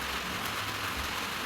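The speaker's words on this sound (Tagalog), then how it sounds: "hinay-hinay na ang ulan, dili na siya kusog" Steady rain easing off on a rainy afternoon, a soft even hiss of drops on surfaces with no talk, continuous and moderately quiet throughout.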